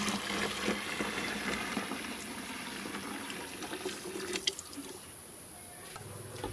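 Cold water runs and splashes into a large glass jar of hibiscus drink with chopped fruit, a steady liquid rush that thins toward the end, ending with a few drips.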